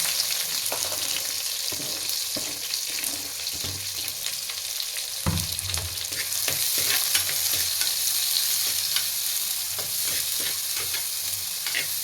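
Chopped onions with curry leaves sizzle loudly in hot oil in a pan for crab curry, while a spoon scrapes and stirs in irregular strokes; the frying swells slightly louder midway, close and without speech.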